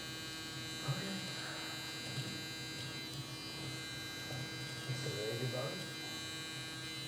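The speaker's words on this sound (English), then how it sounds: "this trimmer's eating" A Stylecraft Instinct trimmer with an Expo blade runs with a steady electric buzz and mains-like hum while cutting hair, the motor tone holding constant under brief bits of nearby talk.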